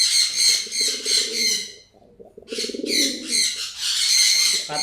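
Newly bought pigeons, just unboxed after being kept in a cardboard box, coo close by in repeated throaty bursts with brief pauses between calls.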